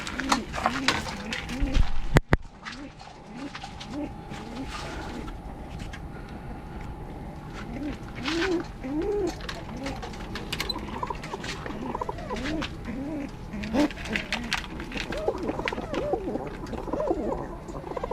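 Pigeons in a coop coo continuously in overlapping low, rolling calls, close by, with wing flutters and rustling and someone speaking now and then.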